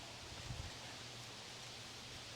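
Steady broadband wind rushing outdoors beside a wood-fired brick oven, a constant airy hiss with no distinct events.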